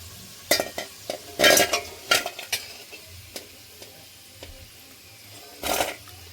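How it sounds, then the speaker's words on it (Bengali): Potatoes frying in a pan for a paneer and cauliflower vegetarian dish, with short bursts of sizzle and spatula stirring and scraping, close and moderately loud, alone without talk. "ভেজে নেবো কিছুক্ষণ। দেখুন আলুটা ভেজে নিয়েছি, তুলে নেব।"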